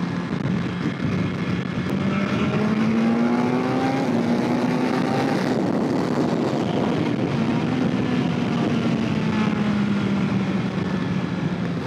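A 2025 BMW S1000XR motorcycle is ridden at speed, its engine note rising and falling steadily through corners under heavy, constant wind rush with no talk.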